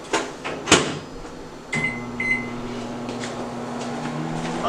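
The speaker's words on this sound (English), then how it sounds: "That in the microwave, put a lid over that." A steady low hum of a microwave oven running, with a few clunks and a brief beep early on, fairly quiet and without voices.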